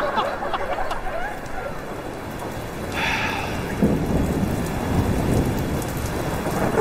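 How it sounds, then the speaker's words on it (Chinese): Heavy rain pours down steadily in a thunderstorm, with a low rumble of thunder rolling in partway through, close and loud with no voices. "这雨越下越大"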